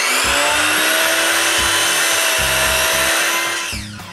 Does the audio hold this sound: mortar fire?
no